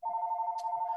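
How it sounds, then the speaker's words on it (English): A home telephone rings with a steady, warbling electronic tone, close and clear, sounding continuously with a brief faint noise partway through. "Apologize for my home phone ringing"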